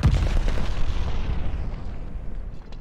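A glide bomb explosion in Call of Duty: Vanguard starts with a loud, heavy boom that rumbles on and fades away over about three seconds, with no voice over it.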